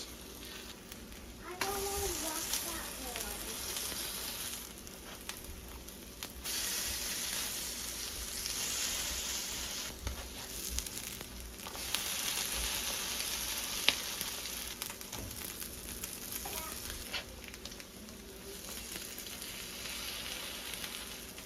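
Jumbo lump crab cakes, bound with egg, fry in a pan over lowered heat with a steady, close sizzle and hiss throughout, with a few faint clinks and brief bursts of louder crackle.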